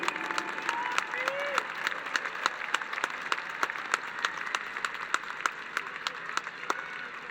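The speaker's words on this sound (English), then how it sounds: "clap it up for them." Applause from a crowd at a 2021 Jefferson High School graduation ceremony, honoring 4.0 students: dense, steady clapping with sharp individual claps popping out over the full seven seconds, a faint voice briefly audible beneath it.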